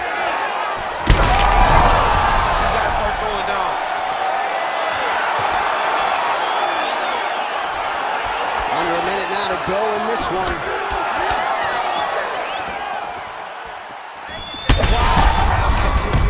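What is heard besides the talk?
punches landing and crowd in the EA Sports UFC 5 video game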